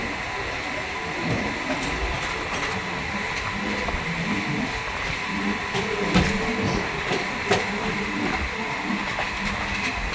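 Two Anand Vihar–Patna special trains passing each other, giving a continuous rumble and rattle of wagons with clanks and knocks, heard steadily from on board.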